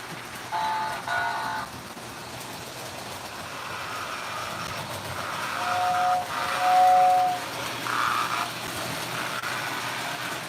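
A model railroad train runs with a soft, steady rolling hum, while short whistle toots sound near the start and again later, fairly faint and with no talk.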